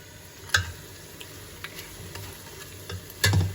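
Meat sautéing in a pan for biryani, a low steady sizzle broken by a few sharp scraping stirs near the start and end.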